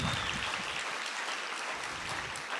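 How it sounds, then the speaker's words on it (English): Sustained audience applause at a 5th grade band and orchestra school concert, dense and steady clapping from a large crowd throughout, close and full. "Can we give them one more round of applause?"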